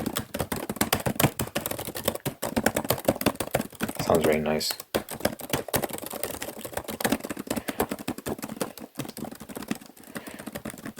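Rapid, continuous clicking of keys being typed on a keyboard, close and crisp, with a person briefly speaking partway through.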